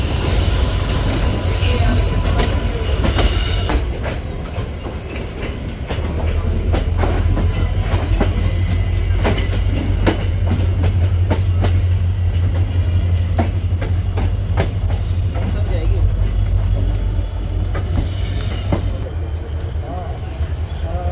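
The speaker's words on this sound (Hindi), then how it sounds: "तो दोस्तों सामने से कोई ट्रेन जा रही है, मेमू ट्रेन है यार" A MEMU electric multiple-unit train runs past on the opposite track near Ambala, a continuous loud rumble with clickety-clack wheel beats and rail rattle lasting throughout, heard from aboard another train.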